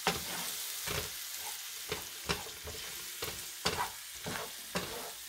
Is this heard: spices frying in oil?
yes